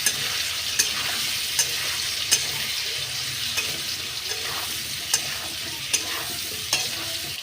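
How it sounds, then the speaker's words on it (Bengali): Potatoes dusted with turmeric powder sizzle steadily in a pan while a spatula stirs them, scraping at a regular beat roughly once a second, close and fairly quiet with no voices. "আমি আবারও বন্ধুরা এটা খুব ভালো করে নাড়াচাড়া করব।"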